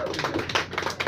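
A small crowd at a grunge band's live set claps for the band, a brief burst of close, irregular hand claps.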